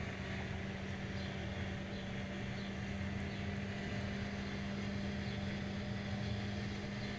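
Racing car engine held in sixth gear on the longest straight of the Paul Ricard circuit in a racing simulator, a steady, unbroken high drone with a constant engine tone.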